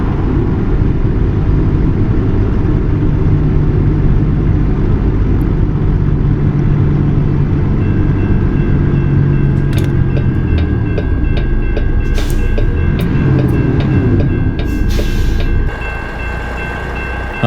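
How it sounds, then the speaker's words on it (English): A freight train rumbles past at night in American Truck Simulator, a loud, continuous roll of wheels and cars with clicking and metallic squeals toward the end before it fades slightly. "Let's check out this train pass by in the night"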